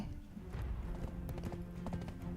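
Hoofbeats of a blue Doom Horse in the Black Desert video game, a steady clip-clop of repeated hoof strikes mixed with game sound effects at moderate loudness.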